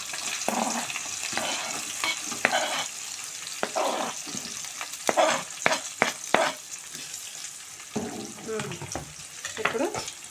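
Onions fry in a pan with a steady sizzle while a spoon scrapes and stirs them in repeated sharp strokes. The sound is close and moderately loud.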